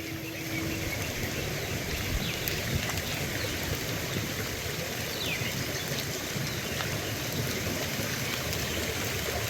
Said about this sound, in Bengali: আবার মনে হয় বৃষ্টি জুড়ে নামতেছে এই যে